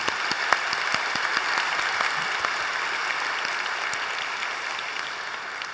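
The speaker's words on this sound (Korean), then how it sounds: "우리 귀한 형제에게 다시 한번 우리 감사와 또 축복의 박수 한번 보내드리겠습니다" A church congregation gives a singer a long round of applause, a dense, even wash of many hands clapping in a reverberant sanctuary, with a few sharper claps standing out near the start.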